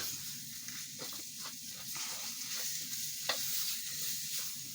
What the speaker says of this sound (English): add in all that in there, and then you mix. Just give this a mix.